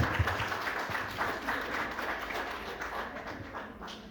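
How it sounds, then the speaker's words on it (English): A ceremony audience gives a round of applause for company representatives at an inauguration and summer internship completion event. The dense patter of clapping stays fairly quiet and even throughout. "please give a warm round of applause"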